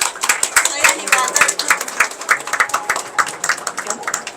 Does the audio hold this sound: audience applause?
yes